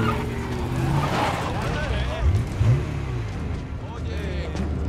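A car engine rumbles and revs in a Twilight movie scene, a steady low drone with some swelling acceleration, heard under voices and other scene sounds.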